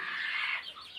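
Village hens cluck in a short close burst of bright calls, with the sound easing off toward the end.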